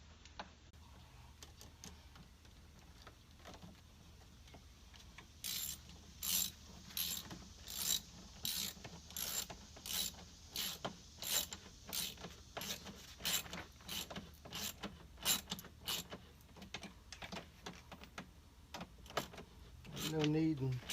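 A hand ratchet tightens a bolt on a car's cold air intake, giving a quick series of sharp, close clicks in short bursts, with someone speaking quietly before and after.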